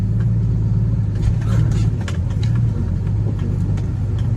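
A dump truck's engine rumbles steadily while reversing through a village lane, a low continuous drone with slight rises in revs and someone talking over it.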